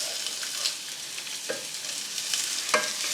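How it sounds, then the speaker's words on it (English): Thinly sliced onion sizzling steadily in a warm frying pan, with a few soft scrapes and clicks from a stirring utensil breaking it up; a close, low hiss throughout with no talking. "now I'm going to put my onion into the pan"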